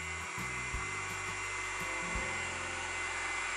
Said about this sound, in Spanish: Le doy al botón de encendido y ya me puedo secar el pelo perfectamente